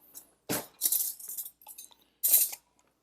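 A metal spoon scrapes and clinks against the inside of a Campbell's soup can, a close run of bright scrapes and taps followed by one longer scrape, with no voices.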